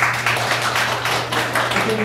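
A seated audience at a Korean classics reading session claps for an invited guest, a steady patter of many hands over a constant low electrical hum, with no break through the stretch.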